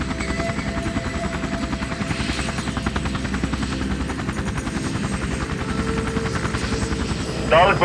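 A helicopter flying over mountainous terrain in a headwind drones steadily throughout, its rotor thumping as a continuous loud rumble, with a brief louder burst near the end.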